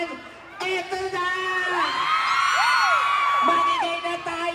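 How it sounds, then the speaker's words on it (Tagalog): Crowd at a mall show in SM Seaside City Cebu cheering and whooping loudly, with rising shouts and screams swelling over a voice on a microphone, dense and sustained. "palakpakan na may kasamang hiyawan"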